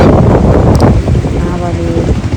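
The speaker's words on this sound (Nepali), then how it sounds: "हावाको साउन्ड सुन्न सकिन्छ दर्शनमा।" Morning wind blows at Siddha Baba temple in Butwal, buffeting the microphone with loud, gusty rumbling while a person speaks over it.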